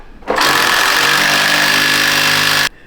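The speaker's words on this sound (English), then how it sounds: "Just be ready for the wrench to go crazy" An impact wrench loosens a sway bar on an old Chevy OBS truck in one loud continuous burst of about two seconds, a harsh buzzing rattle up close that starts and stops abruptly.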